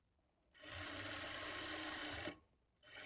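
A sewing machine stitches a lined blouse in one steady whirring run of close, even motor hum. It stops briefly, then starts a second burst.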